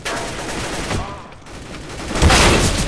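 Loud, dense bursts of rapid gunfire in the video game CS:GO Arms Race, sustained automatic fire that dips briefly and then swells again, with some game noise mixed in.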